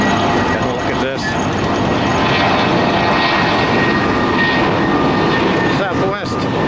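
Southwest airliner on the runway at Tampa airport, a loud, continuous jet engine roar with a steady tonal whine, close by, under faint talk.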